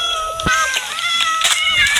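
Several cats meow in the video game Minecraft, with overlapping high mewing calls that repeat closely over one another, loud and near, with no talking.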